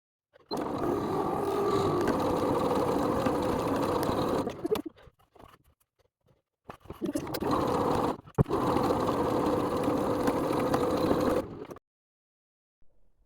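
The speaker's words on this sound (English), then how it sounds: "Now, sew along the entire length of each of the upholstery straps." A sewing machine running a 3mm straight stitch along upholstery straps for a shopper tote bag, with a loud continuous whirring burst, a pause with faint handling, then two more long runs.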